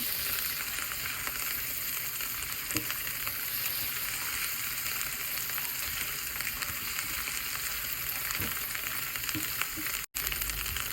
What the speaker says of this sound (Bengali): আদা রসুনটা আমি বেশ খানিক্ষণ কষে নেবো যাতে এর কাঁচা গন্ধটা না থাকে